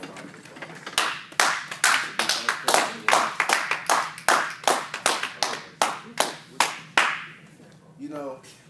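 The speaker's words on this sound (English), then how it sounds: "Give them a round of applause." A small group claps at a speech event, a series of distinct sharp claps in an uneven rhythm that thins out toward the end, followed by a brief voice.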